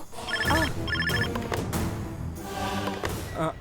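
A landline telephone in a home gives repeated electronic trills in two distinct bursts. Background sounds and movement thuds run beneath the ringing.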